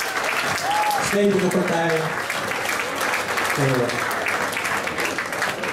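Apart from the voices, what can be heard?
applause for players after a match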